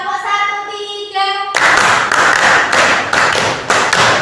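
A class of students claps a rhythm pattern in a lesson, a run of sharp, roughly even group claps that starts after a voiced call, loud and close.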